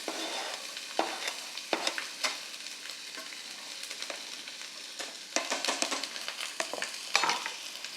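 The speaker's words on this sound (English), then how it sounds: "So I'm going to stir my onion into the oil" Chopped onion is stirred into hot oil on a small, very hot stove, with a soft steady sizzle and bursts of scraping stirs, close but fairly quiet, no voices.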